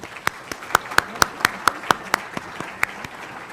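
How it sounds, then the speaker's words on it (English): Audience applause at a meeting: a string of distinct, fairly close claps in a steady rhythm, about a dozen sharp hits over a softer background of scattered clapping. "So everybody join me in a big round of applause"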